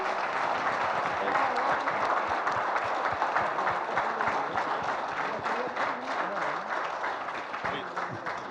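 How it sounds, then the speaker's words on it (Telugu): A seated audience at a Telugu film function rises to applaud a newly named Padma Shri recipient: dense, sustained clapping from a large crowd fills the whole stretch, with voices mixed in beneath it. "ఒకసారి అందరు లేచి క్లాప్స్ తోటి"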